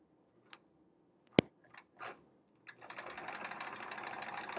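A few isolated clicks and taps give way to a steady rapid whir as a sewing machine stitches a quilt during free-motion quilting, fairly quiet and close with no talking.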